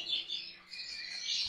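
Canaries, both normal and ivory mosaic birds, sing a continuous high, bright warbling trill, moderately close and without any voices.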